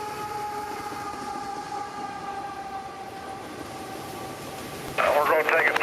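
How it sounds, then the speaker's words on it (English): Long freight train led by a single ET44AH locomotive rolls past nearby in a steady, sustained rumble with tonal whine, growing louder and harsher near the end as the cars keep coming. "I didn't think I was in for much with only a single engine, an ET44AH on the head end, but this train just kept coming."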